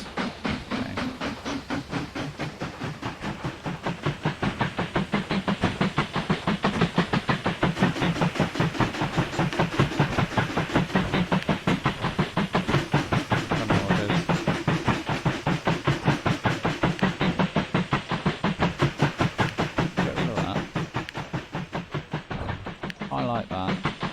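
A steam train in the video game Mashinky chuffs along with a fast, even rhythm of hissing puffs and rail clatter, steady and close for the whole stretch.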